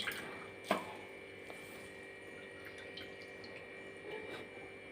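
Grated potato is squeezed by hand to press out excess water, giving a soft squish and a sharp drip near the start, then faint trickling and dripping into a bowl.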